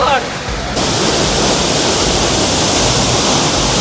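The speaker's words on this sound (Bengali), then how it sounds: "দেখুন কি অসাধারণ এই ঝর্ণা।" Banjhakri Falls, a waterfall in Gangtok, Sikkim, gives a steady, loud broadband rush of falling water that fills the whole clip, with a brief softer moment at the very start.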